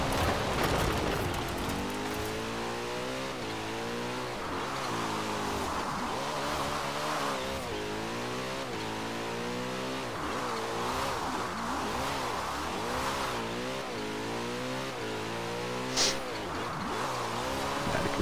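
A car drifting in Forza Horizon 4 screeches its tires in long, wavering squeals over a revving engine that rises and falls for the whole stretch, with a sharp click near the end.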